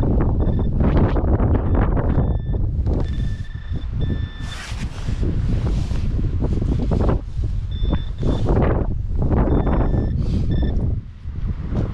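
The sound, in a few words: wind blowing outdoors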